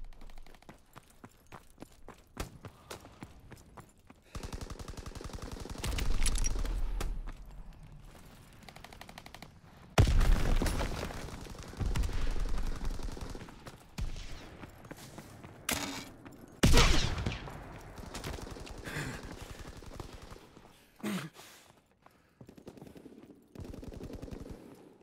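Call of Duty WW2 battle sounds: bursts of machine-gun and rifle fire crackle in irregular volleys, some loud and close, others faint, with footsteps and quieter gaps between.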